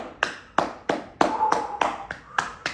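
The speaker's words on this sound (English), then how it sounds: "Clap." A single person clapping hands during a guided yoga and breathwork session, about eight distinct, close claps in a slightly uneven rhythm, alone with no voices.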